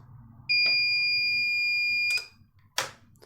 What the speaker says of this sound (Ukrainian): Чуємо звукову сигналізацію, прилад автоматично стартує.